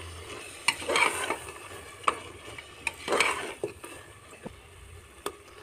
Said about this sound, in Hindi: अब इसको हम इसमें ऐड कर देंगे और इसे भी मिक्स कर लेंगे।